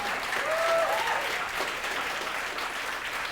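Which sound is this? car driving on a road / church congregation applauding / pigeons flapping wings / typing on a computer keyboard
church congregation applauding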